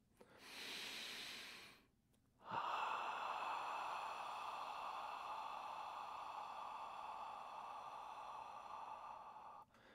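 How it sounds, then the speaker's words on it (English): A sharp short breath, then a long sustained audible exhale during a beginner boxing workout, close and breathy with a brief pause between, no talk. "I just breathe out."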